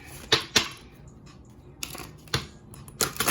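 Quick papery riffling bursts of a card deck being shuffled come in short clusters with pauses between, close and fairly crisp against a quiet background.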